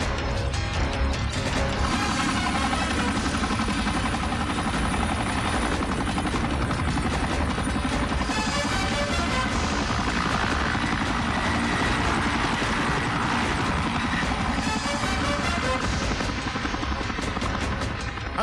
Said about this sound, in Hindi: वो लड़का हमारे बेस से हेलीकॉप्टर लेकर उड़ गया है